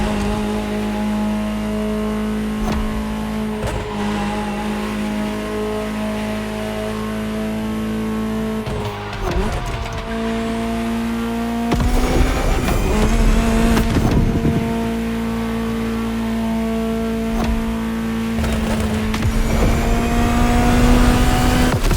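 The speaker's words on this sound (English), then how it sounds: "Just listen to the car you're driving." A Ferrari supercar engine in the racing game The Crew Motorfest drones steadily, then rises and falls through loud revs and gear changes, with sharp bursts of acceleration near the end.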